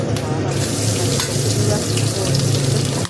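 Garlic and ginger fry in a pan with a loud, even sizzle that stays close and unbroken throughout.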